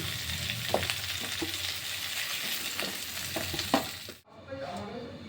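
Cauliflower florets sizzle steadily in hot oil, a dense frying crackle with light knocks of a utensil scattered through, then a sudden cut to a quieter stretch with softer sizzling near the end.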